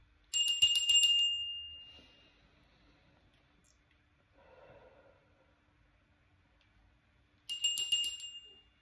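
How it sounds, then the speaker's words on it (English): A small bell rings to clear energy during a tarot-style reading, two separate bright ringing bursts with short decays separated by several seconds of near silence. "We ring the bell to clear energy."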